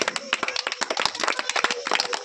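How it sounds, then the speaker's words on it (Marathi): Children clap for a student named Dnyaneshwar at a school craft and experiment demonstration, a dense, uneven burst of many small hands in close, rapid, overlapping claps lasting a couple of seconds. "छान टाळ्या वाजवा ज्ञानेश्वरसाठी"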